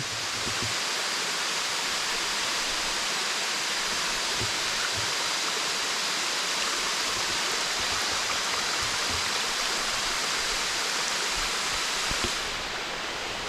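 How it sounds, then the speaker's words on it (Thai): Water rushes steadily and loudly over rocks at the Than Thip waterfall, a constant close-up roar of shallow stream water with no other sounds. "เสียงน้ำเย็นสดชื่นมากเลย"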